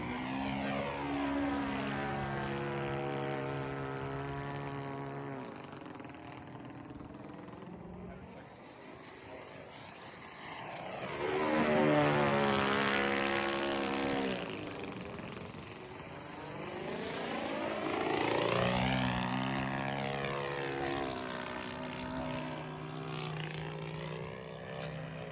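A Hanger 9 Pulse XT 60 RC airplane drones steadily overhead, its propeller engine pitch rising and falling as it passes near and far across the flying field, with talk over the sound.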